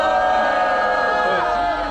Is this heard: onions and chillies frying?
no